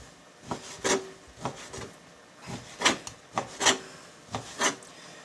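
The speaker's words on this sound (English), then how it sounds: "We're going to be cutting with the grain." A knife slices poultry into strips with the grain, making repeated short scraping and rubbing strokes against a cutting board in an uneven rhythm, close and fairly quiet, with no talking.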